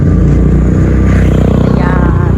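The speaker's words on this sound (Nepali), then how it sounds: "यहाँ बाइक गयो एउटा खाने गरी।" A motorcycle passes on a roadside, its engine loud and close with a rough, rumbling drone and a rising whine near the end, set against steady traffic noise.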